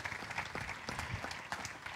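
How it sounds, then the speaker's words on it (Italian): Outdoor evening event audience applauding a vicar called onto the stage, a continuous crowd clapping texture at moderate level, heard alone without speech. "vorrei anche, prego, un applauso a Don Pino, il nostro vicario."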